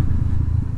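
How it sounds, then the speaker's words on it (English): A motorcycle's exhaust rumbles low and steady while riding, picked up close by a Sony ECM-CS3 lavalier mic, in a short, constant drone. "I hope you can hear me as well as the motorcycle."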